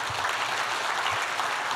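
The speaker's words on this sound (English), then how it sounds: "let's give Reway a round of applause" A seminar audience at a leadership training event gives a round of applause, a dense, steady wash of many hands clapping at once, loud and close, with no talk over it.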